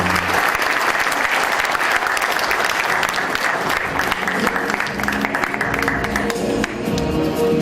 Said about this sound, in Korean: 다시 한번 축하의 박수 부탁드리겠습니다